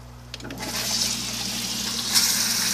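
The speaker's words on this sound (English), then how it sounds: "We did add this spray bar on here as well. So we'll turn her on really quick today." An aquarium system's spray bar starts up, aerating the water with a steady rushing, splashing hiss that swells after a brief click and continues to the end, a second surge arriving near the close.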